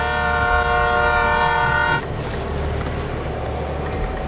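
A loud train horn blares for about two seconds, then cuts off, leaving the heavy rumble and rattle of a passing train.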